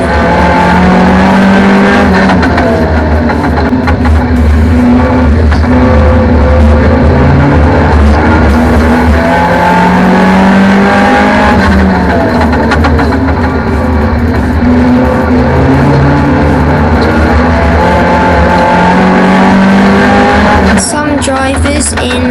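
A hot rod race car brakes and accelerates around a corner at Yarmouth Stadium, its engine loud and continuous from close by, with revving rising and falling through the bend.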